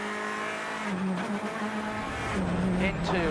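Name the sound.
rally car driven by Craig Breen on a stage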